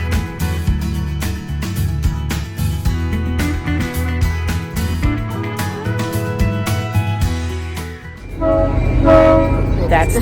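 Nevada State Railroad Museum train sounding at the station before pulling out, a loud sustained horn-like blast rising near the end over steady rumbling and clanking, with people nearby.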